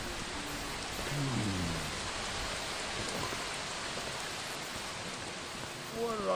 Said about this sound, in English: In the rain, the loud rain, I take one crouch sprinting step.